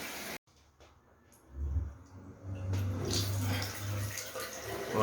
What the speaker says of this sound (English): Water run.